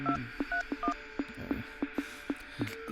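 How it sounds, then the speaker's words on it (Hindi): A telephone being dialed: a quick series of about a dozen short electronic keypad tones at an uneven pace, clear and close, with no talking over them. "फोन लगा उसे।"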